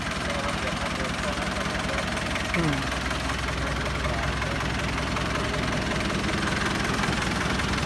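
An old, high-mileage pickup truck with an open three-sided bed idles close by. The knocking, vibrating engine note stays steady throughout, with a voice faintly under it.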